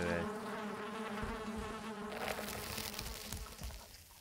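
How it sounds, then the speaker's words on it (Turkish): Bees buzz continuously in the Valheim video game, a close droning hum that shifts in pitch as the insects move, over faint game ambience. "Evet, arı."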